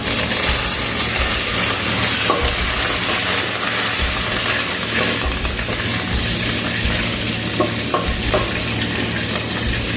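Small shallots and curry leaves fry loudly in a pan for sundaikai vathal kuzhambu, with a continuous close sizzle and intermittent stirring scrapes.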